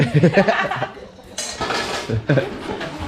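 Cups and dishes washed by hand at home, giving a few brief clinks and clatters of crockery beneath close conversation and a soft chuckle.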